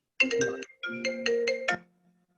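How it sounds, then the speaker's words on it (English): A phone ringtone plays nearby during an interview about a killer nurse book, three short melodic bursts in a row, loud and clear with no talk over it. "there goes my phone"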